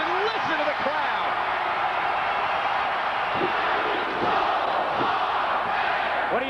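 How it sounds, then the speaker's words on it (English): A WWF wrestling arena crowd roaring and cheering in a dense, loud, continuous wash, with a commentator talking over it. "listen to the crowd"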